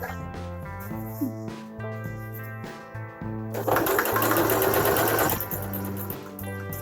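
A sewing machine stitching cotton fabric and elastic for a homemade face mask, its steady mechanical whir running continuously and close, briefly stopping and restarting, then surging louder for a few seconds near the end.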